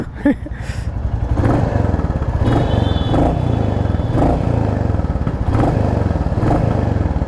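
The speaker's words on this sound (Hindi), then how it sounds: "जो एग्जॉस्ट नोट है वो सुना देते हैं" A Royal Enfield Classic 350 single-cylinder motorcycle idles close by with a loud, steady, thumping exhaust beat and light mechanical clatter throughout.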